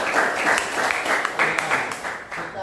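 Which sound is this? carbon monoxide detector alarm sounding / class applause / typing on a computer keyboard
class applause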